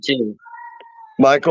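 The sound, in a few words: cat meowing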